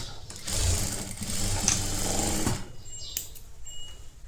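A sewing machine stitches a netted blouse with a close, steady whirring run of about two and a half seconds, then stops, leaving a few faint clicks and handling sounds.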